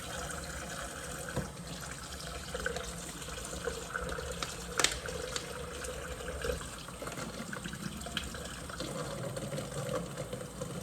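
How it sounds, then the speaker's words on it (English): A sink tap runs water into a water bottle in a steady, fairly faint stream, with a few soft knocks and clinks scattered through the filling. "I'm going to fill this water bottle the rest of the way up with water"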